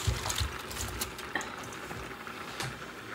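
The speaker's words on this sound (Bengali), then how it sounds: "ডাল সেদ্ধ করতে দিয়ে দিচ্ছি।" Lentils are set to boil in a pot of water in a home kitchen, giving faint, brief sloshing and trickling of liquid with no talk.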